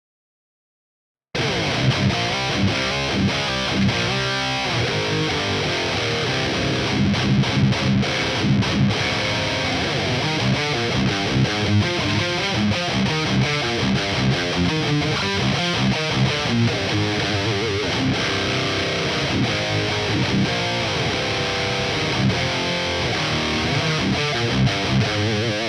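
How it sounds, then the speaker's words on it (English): A distorted electric guitar tone from a Fractal Axe-Fx III, played as a loud, continuous riff with dense chugging rhythm and no talking. "what you're going to hear now is 2 different voicings, 2 different tones that I made on the Axe-Fx"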